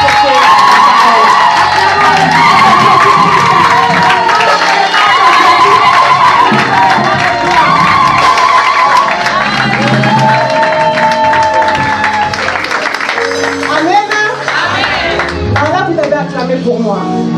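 Church congregation at a French-language conference cheering and applauding, a loud sustained wall of clapping and shouts with music and voices running through it the whole time.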